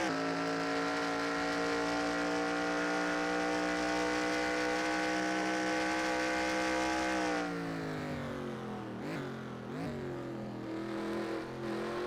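A high-revving race car engine in a racing video game drones steadily around the Indianapolis road course, then drops pitch as it shifts down to second gear, with brief revs and a lower steady hum afterward.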